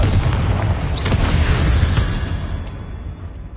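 Booming blast from the Confringo spell in Hogwarts Legacy, a loud low rumbling explosion that fills the moment and slowly fades.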